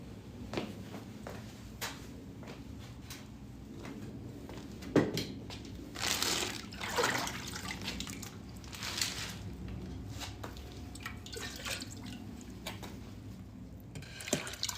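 Fresh water runs and splashes into a container during pottery-wheel throwing of a large bowl, with wet squishing and crinkling handling noises mixed in at close range.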